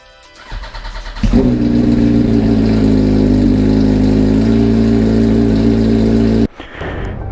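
A 2004 Yamaha R1 sport motorcycle engine fires up after a clutch and inner hub replacement, then holds a loud, steady, near revving drone for several seconds before abruptly dropping back and continuing more quietly.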